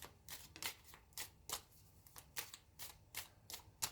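Quiet riffling snaps of a deck of cards being shuffled, several quick bursts in an irregular rhythm, close and soft with no voices.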